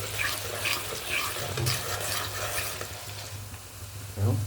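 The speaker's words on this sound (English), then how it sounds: "the onions are in, so let's saute them for some time" Onions sautéing in a pan make a soft, steady sizzle with gentle stirring scrapes, close but fairly quiet, ending with a low thump.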